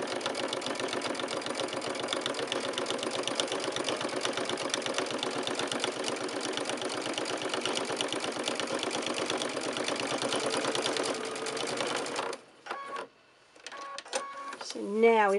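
A sewing machine quilts the bottom of a fully lined tote bag, running in a steady rapid mechanical whir for about twelve seconds before stopping, followed by brief handling noises.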